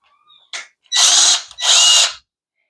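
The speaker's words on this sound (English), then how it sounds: "And then you drill it to that height when the tape hits the top of the" A power drill with painter's tape wrapped on the bit as a depth marker bores into wood: a brief blip, then two loud, close whirring bursts of about half a second each, separated by a short pause, with no talk.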